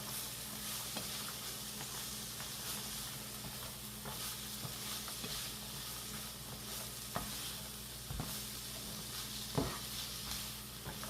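Beet greens fry with onions, lemon zest and minced garlic in a pan, giving a steady close sizzle with occasional stirring scrapes and taps throughout.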